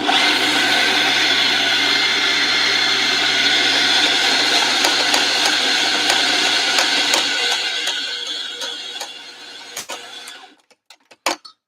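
An espresso grinder grinds coffee with a loud, steady whirring drone for about eight seconds, then winds down and stops, followed by a few light clicks and taps.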